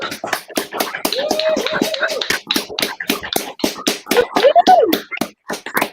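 Scattered, sparse hand claps ring out from a small audience at a film competition awards night, with a few voices and whoops mixed in among the distinct claps.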